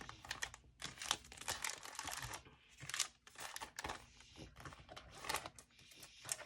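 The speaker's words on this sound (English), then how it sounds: "Let's go ahead and get these in the big envelope." Paper crinkles and rustles as a stack of cash is pushed into a big paper envelope, with close, quiet crackling and tearing-like scrapes in irregular bursts.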